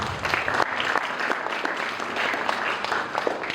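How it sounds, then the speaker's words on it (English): An audience breaks into steady, dense applause at a HYLEC 2025 event, a continuous wash of many hands clapping close by for a few seconds. "Let's give them a round of applause again."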